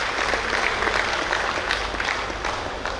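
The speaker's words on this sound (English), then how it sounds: "I think a bigger round of applause for Dr. Balasubramaniam, friends." An audience applauds a guest at a Rotary International District 3181 gathering, with steady, full clapping from a crowd lasting about three seconds and no talk over it.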